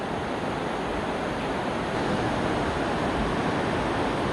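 A river current rushes through the Aare Gorge in Switzerland, a steady, loud, broadband roar of water that holds even throughout.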